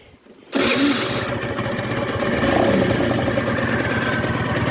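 A Kymco Agility RS 50cc scooter engine sputters to life after a brief quiet moment, then runs steadily with a buzzy, close idle.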